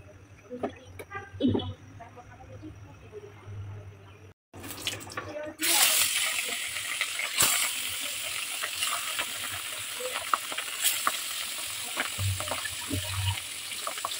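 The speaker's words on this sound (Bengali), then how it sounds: "মাছ দিয়ে দিলাম ভাজা করে।" Fish frying in a pan, a loud steady hiss and sizzle that starts abruptly partway through and continues with occasional pops, following a quieter stretch with clatter and brief talk.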